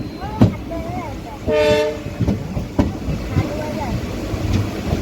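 A train pulls into Sangameshwar station, rumbling and clattering steadily over the rails as its horn sounds once, with people talking nearby throughout.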